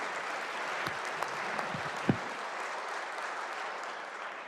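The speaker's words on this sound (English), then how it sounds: "Give him a big round of applause." Applause fills a legislative floor session in the West Virginia House chamber, a steady broadband clapping wash from a large room lasting several seconds with a few sharper claps standing out, no talk over it.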